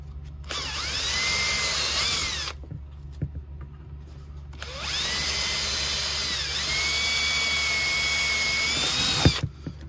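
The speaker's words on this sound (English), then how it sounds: "I'm going to drill these holes out to 15/64." A power drill enlarges mounting holes in a 30-amp, 125-volt RV power inlet on a trailer's siding, with two loud sustained whining runs split by a brief quiet gap and a short clunk at the end.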